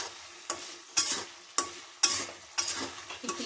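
Buffalo meat frying in a pan for pickle, stirred in repeated scraping strokes about every half second over a steady close sizzle, with no talking.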